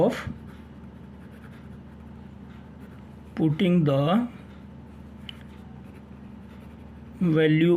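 Pen strokes scratch across paper as a maths equation is written out, soft and close, with brief stretches of someone talking in between.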